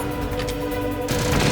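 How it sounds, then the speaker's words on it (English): Rocket fire in the Metal Gear Solid finale rolls out as a loud, continuous burst of blasts, swelling toward the end, with no talk over it. "Okay, shooting the rockets."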